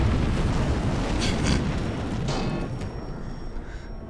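Dense, sustained roar of an explosion in the LEGO Star Wars: The Force Awakens video game, loud broadband rumble with crackling bursts that gradually thins and fades toward the end, no voices.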